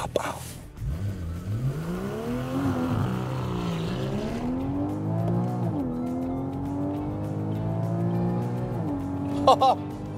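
A sports car with a PDK dual-clutch gearbox on an airfield runway track revs hard and close, its engine note climbing and dropping through quick gear shifts, loud and continuous throughout.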